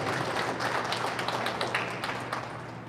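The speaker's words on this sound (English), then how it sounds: "let's give them a round of applause for the great sponsor here." Audience applause for a sponsor at a Hmong New Year event in Fresno, a dense, steady wash of many hands clapping at moderate volume that tapers slightly toward the end, with no talk over it.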